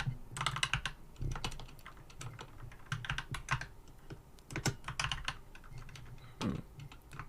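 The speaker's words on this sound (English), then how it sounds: "Let me type this proper now." Rapid, uneven typing on a computer keyboard, close and fairly quiet, with bursts of keystrokes and brief pauses and no talking over it.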